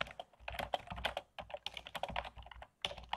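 Someone types briskly on a computer keyboard, producing close, rapid irregular key clicks with brief pauses, alone without talk.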